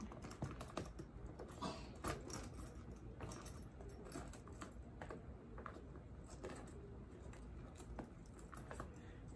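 Keys jingle and clatter as they are dropped into a Coach Pepper Satchel leather handbag, with scattered light metallic clicks and rustling that continue throughout, close and fairly quiet.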